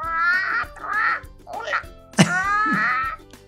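A voice imitates a parrot with a few squawking, nasal calls in short bursts, loud and close, and one sharp squeal near the middle.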